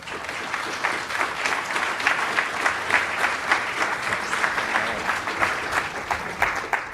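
An audience applauds to welcome the lecturer Dr. Robert Pappalardo to a public talk, giving steady, dense clapping from a sizable crowd throughout, with no speech over it.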